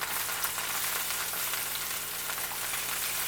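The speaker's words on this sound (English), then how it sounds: "I'm surprised at how much it's splattering." Chicken and onions sizzle and spatter in a frying pan, a constant crackling hiss with small popping bursts, close and steady throughout.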